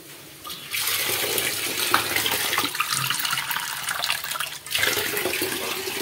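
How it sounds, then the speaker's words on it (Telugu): Water streams steadily from a bowl into a pan of dhaba-style egg masala curry, a close, continuous splashing gush that begins abruptly, runs for several seconds, breaks briefly and then resumes, with no talking. "ఇప్పుడు మనం దీంట్లోకి వాటర్ యాడ్ చేసుకుందామండి"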